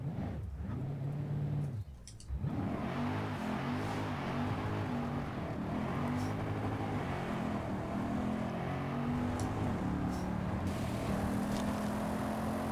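A high-revving V8 engine of a Lexus RC F Track Edition race car in the video game Forza Horizon 5 screams and drones. The pitch rises and falls as it shifts through gears, with a brief drop in the middle.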